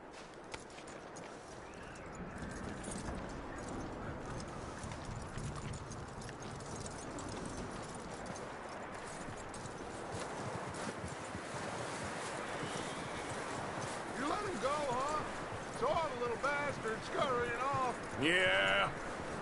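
Horse hooves clip-clop steadily at a walking pace under a windy outdoor ambience in Red Dead Redemption 2, with a few brief higher chirps near the end.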